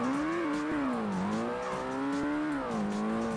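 A Ford Mustang races in the Ford Racing video game, its engine a steady, loud buzzing drone that rises and falls with revs, with a few sharp popping clicks on top and no talking.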